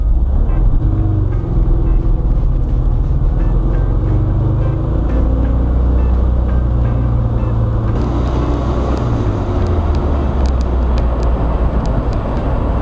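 Steady low engine rumble of a 1972 VW Karmann Ghia on a test drive, continuous and fairly loud, with road noise and a slight shift in tone partway through.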